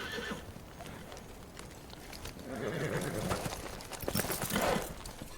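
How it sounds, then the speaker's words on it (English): Spooked horses in a TV drama neigh and whinny with clattering hoof clip-clops, the calls rising louder toward the end over a busy, noisy background. "Something's spooking the horses."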